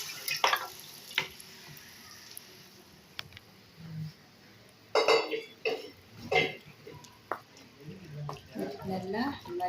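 Goat leg gravy with milk being stirred in a pan, heard as scattered scraping and sloshing strokes over a low sizzle, growing busier and more frequent in the second half.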